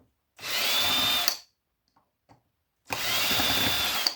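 A power drill backs screws out of a scrap breaker in two bursts of about a second each, a high whirring spin with a short pause between, close and alone.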